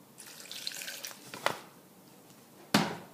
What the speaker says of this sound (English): I think I'm just going to put a little more water in there.